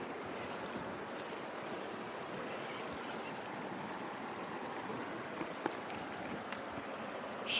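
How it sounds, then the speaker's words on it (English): River water rushing over rapids on the northern shore of the Swan River, a steady broadband roar of running water with faint wind, continuous and even, with no talk. "The water running in the background."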